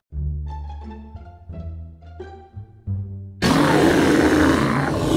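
A giant black bear in a Minecraft cartoon gives a series of deep, drawn-out roars and grunts, close and loud, followed by a sudden burst of harsh, broadband roaring noise.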